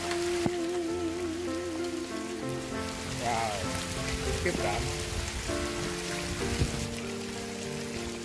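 Hail falls outside in a steady, dense patter, heard under a singing voice and music.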